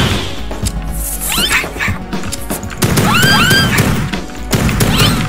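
In the video game Project Warlock, a pistol fires repeatedly amid a dense, loud mix of impacts, crashes and creature cries, all close and layered with no speech.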